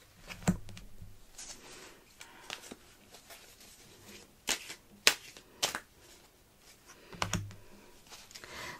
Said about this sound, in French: Je vais recouvrir chaque carte avec un jeu du tarot.